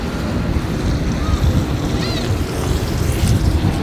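Sea waves wash steadily at Debudo Island, a continuous rushing surf mixed with heavy wind buffeting the microphone, with faint distant motor or bird tones above.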